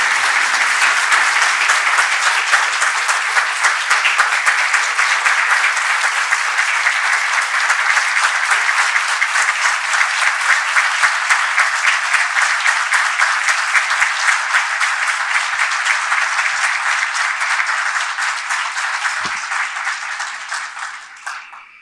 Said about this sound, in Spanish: Muchísimas gracias por los aplausos.